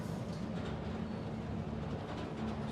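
A train rumbles past in Marvel's Spider-Man Remastered, a steady, loud low-pitched roar and rail noise that holds constant throughout with no talking.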